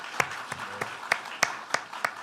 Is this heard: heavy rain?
no